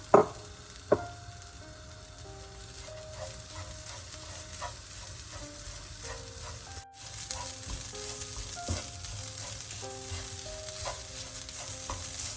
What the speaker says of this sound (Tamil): இனிமே நான் இந்த தேங்காய் போட்டு வறுத்தெடுக்க போகிறேன் பொன்னிறமாக